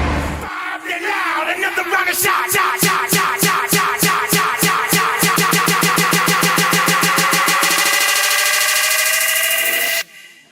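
A large-tyred vehicle arriving to collect a neighbour's boat gives a loud, steady engine roar that climbs in pitch under rapid, regular pulsing for about ten seconds, then cuts off abruptly.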